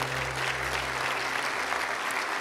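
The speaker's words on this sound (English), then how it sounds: "How about a round of applause for all of our winners this year?" An audience at a 2013 trade fair luncheon applauds the winners, a dense, sustained wash of clapping from many hands filling the room.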